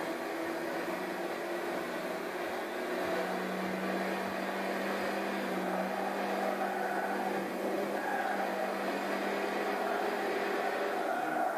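Race car engines hum and whine steadily as one car overtakes another on the outside in the Gran Turismo 6 video game, a continuous mid-level drone with slight pitch shifts and no talk.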